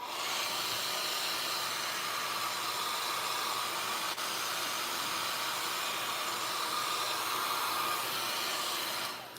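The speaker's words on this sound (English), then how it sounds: "I'm going to use my dryer." A hair dryer blows steadily at close range, a constant airy roar that runs unbroken for several seconds before cutting off at the end.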